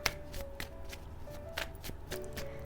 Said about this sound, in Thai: แม่หมอขอ เปิดไพ่ให้ครบเรียบร้อยก่อนนะคะ